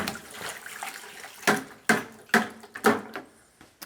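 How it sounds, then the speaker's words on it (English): A garden hose drains water out of a home water filtration line, giving a quiet gurgling trickle punctuated by several sharp sputtering bursts as air and water spit out. "The garden hose is going to drain out the line a little bit."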